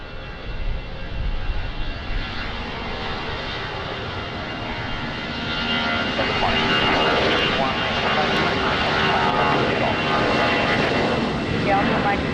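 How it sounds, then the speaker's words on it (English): A fixed-wing airliner makes a rolling takeoff at Lisbon Airport, its engines a loud, steady broadband roar that swells gradually as it accelerates, heard from a spotting position. "Rolling takeoff, let's go."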